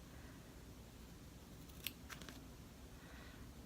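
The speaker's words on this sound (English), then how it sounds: "I'm going to put the tip of my scissors up to the edge of the stitches, not over the stitches because you don't want to cut them" Small scissors snipping beside embroidery stitches: two or three faint, brief cuts against a quiet background hum.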